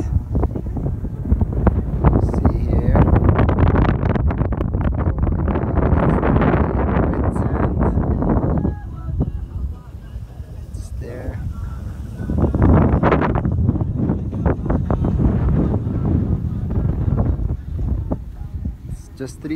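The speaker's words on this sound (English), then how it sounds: "Today it's windy a bit." Gusty wind buffets the microphone in heavy rumbling bursts at Moreeb Dune, Abu Dhabi desert, easing briefly midway before surging again.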